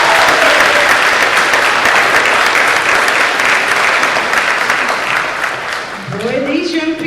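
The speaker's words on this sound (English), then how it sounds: "let's give him another round of applause" An audience applauds after a student's anti-bullying speech at a public speaking contest, loud sustained clapping filling the hall, with a voice starting to speak over it near the end.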